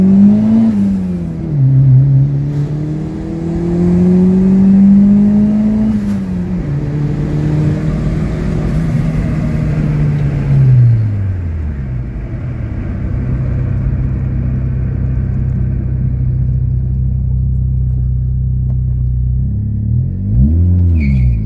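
A turbocharged Honda Civic with a stock boosted D15/D16 VTEC engine revs on a dyno, its loud engine note rising and falling through several sweeps before settling into a steady drone, then climbing again at the end.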